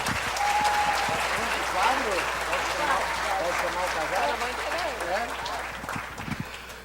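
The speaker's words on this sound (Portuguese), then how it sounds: "Uma salva de palmas a Jesus." A church congregation applauds at an Easter service, a dense, sustained wash of clapping lasting several seconds and fading slightly toward the end, with voices talking over it.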